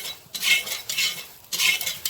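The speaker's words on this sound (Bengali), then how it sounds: "হলুদ দিয়ে নাড়াচাড়া করলাম" A utensil stirs soybean chunks with a little turmeric in a pan, giving two or three bursts of scraping and clinking separated by short pauses, close by and moderately loud, with no talking.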